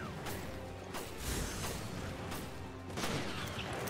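Gunshots ring out in Resident Evil: Revelations, several sharp reports spaced a second or so apart over a dense, rumbling game backdrop, fairly loud and close.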